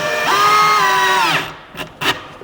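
A power drill drives a screw to fasten a drawer slide, its motor whining steadily for about a second before winding down, followed by a couple of short clicks and knocks.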